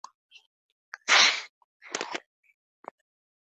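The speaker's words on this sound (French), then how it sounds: "Je dois éternuer." One sharp, breathy sneeze bursts out, followed by a shorter noisy exhale and a few faint clicks in otherwise quiet surroundings.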